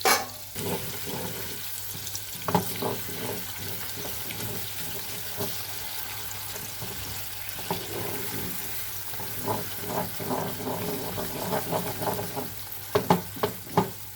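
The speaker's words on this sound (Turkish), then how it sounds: "Bir iki dakika kadar böyle karıştırıyoruz." Cream stirred into hot caramel for a hazelnut caramel tart bubbles and sizzles steadily, with scraping spoon strokes and soft clinks growing busier toward the end.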